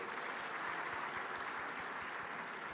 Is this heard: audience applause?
yes